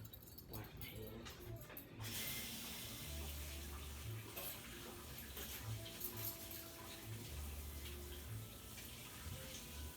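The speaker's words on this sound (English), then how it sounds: "Wash my hands." Tap water runs at home in a kitchen while hands are washed during cooking of string beans and fried tilapia, a steady hiss that surges near and fairly loud, with background music beneath.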